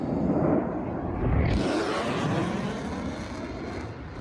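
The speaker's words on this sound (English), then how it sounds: "So here's a jet going the speed of Mach 1." A jet aircraft sweeps past at Mach 1 with a loud, sustained roar that surges sharply partway through and rolls on as a broad rumble, heard alone without voices.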